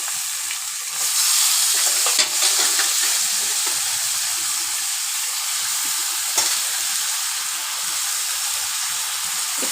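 Washed chicken pieces fry and are stirred in a pan for chicken curry. A loud, steady sizzle and hiss fills the sound, broken by a few brief stirring knocks, with no one speaking.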